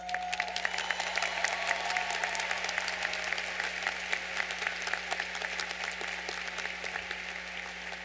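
Sustained applause from a large commencement audience for the class of 2017, dense overlapping claps at moderate distance over a steady electrical hum, with no voices.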